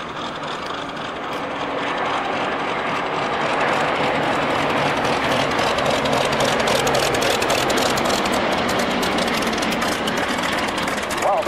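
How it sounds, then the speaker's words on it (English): Several Bristol Mercury radial-engined aircraft, a Blenheim, two Lysanders and a Gloster Gladiator, pass at a 1997 Duxford airshow. A broad, steady engine roar swells and holds loud throughout, with nobody speaking. "we have a total of 5 Bristol Mercury engines in 4 aeroplanes. The Blenheim, 2 Lysanders,"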